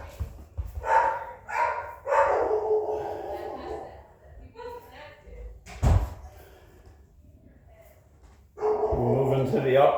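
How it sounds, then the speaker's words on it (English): Dogs bark in short bursts in the background of a home while a person talks, with a loud thump partway through and a louder stretch of barking at the end. "The dogs are barking."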